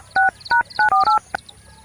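Telephone number dialed as a quick run of about six touch-tone beeps, loud and close, under a faint steady background hum.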